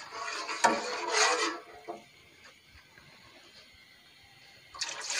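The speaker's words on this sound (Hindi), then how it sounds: "इसको हिलाते हुए मैं इसमें सारा बैटर डाल दूंगी।" Yogurt and gram flour batter for kadhi is poured into a hot pan while being stirred, giving soft close sloshing and scraping with quiet gaps between bursts.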